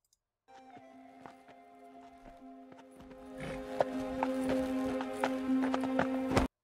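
A horse moves on hard ground, its hooves clip-clopping in an uneven rhythm that grows louder and busier partway through, with a few sharp knocks and snorts close by.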